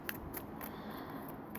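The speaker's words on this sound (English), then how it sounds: "So I'm going to just proceed to shuffle and pick cards." Tarot cards are shuffled by hand in a series of quick, crisp snaps and riffles at a steady rhythm, close and fairly quiet over a soft room hiss, with no talking.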